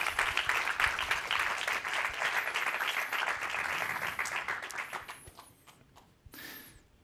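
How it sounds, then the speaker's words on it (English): Audience applause greeting a presenter walking on stage at a climate awards ceremony. Dense, sustained clapping fills most of the stretch, then thins out and fades, with a few scattered claps and a brief burst near the end. "So an applause for Daniela to come on stage"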